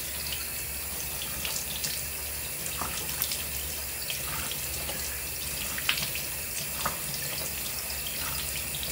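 Water runs steadily from a tap into a sink, a constant close hiss and splash with occasional brighter drips and clinks on top, and no talk over it.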